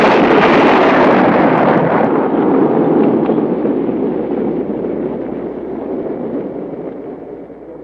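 A cannon-firing sound effect: one loud, deep explosive roar that rumbles on and slowly dies away over several seconds, with no voices.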